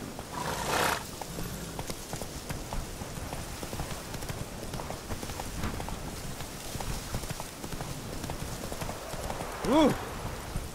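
Roach the horse galloping in The Witcher 3, rhythmic hoofbeats under speech and game sounds, with a short neigh near the end.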